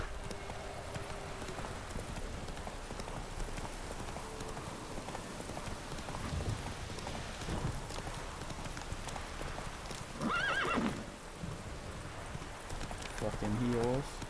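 Roach, a horse in The Witcher 3, gallops with steady, rapid hoof clip-clop throughout, moderately loud over game ambience, with a voice talking briefly near the middle and end.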